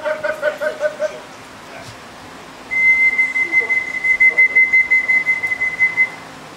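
Someone whistles repeatedly to call a racing pigeon during a final race flight: short bursts at first, then a long sustained high whistle, close and loud, with laughter and talk around it.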